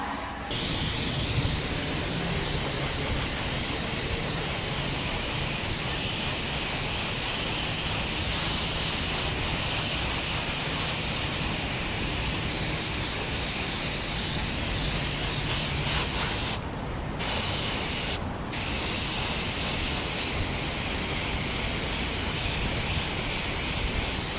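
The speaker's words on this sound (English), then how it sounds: "I love my Iwata airbrush." Iwata airbrush spraying gold paint mixed from raw gold pigment, a steady close hiss that runs almost continuously, with two brief breaks where the trigger is released.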